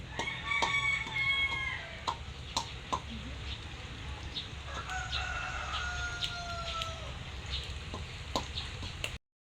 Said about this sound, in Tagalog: Nagkaingay na ang manok mama.